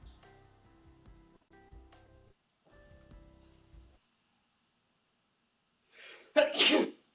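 A single sharp sneeze bursts out near the end, loud and close, after several seconds of faint background murmur and near-silence around a tabletop game session.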